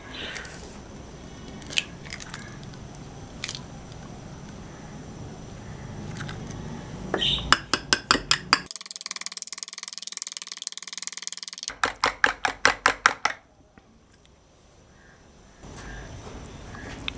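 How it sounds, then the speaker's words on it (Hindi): An egg being beaten by hand in a vessel, two bursts of rapid rhythmic clicking and tapping in the middle, close and fairly crisp, surrounded by quieter kitchen handling noise. "अंडे को मैं पहले फेंट लूँगा इस बर्तन में।"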